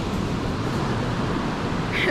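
Steady surf roars on Reynisfjara Beach, a black-sand shore known for sneaker waves, forming a continuous broadband wash with wind buffeting the microphone and no voices.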